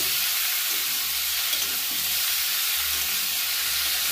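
Watermelon rind sizzling and frying in a pan while being stirred, a steady broad hiss that holds for about four seconds with faint low rumble underneath and no voices.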